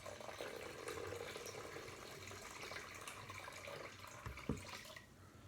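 Hot water poured from a vodka bottle while making blueberry hibiscus mead, a steady close splashing trickle with a brief louder slosh near the end.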